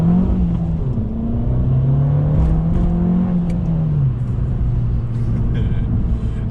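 An Abarth 595 Esseesse with an Akrapovic exhaust, its engine rumbling loudly and close by, with the pitch rising and falling through a few gentle revs under a steady drone.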